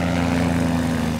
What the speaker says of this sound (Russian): Самолет приближается.